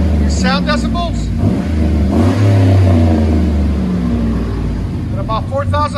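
A 5.3-litre Chevy/GMC V8 with a custom deep-toned exhaust revs up to about 4,000 RPM, swelling into a loud, low roar before settling back. Voices speak over the start and the end.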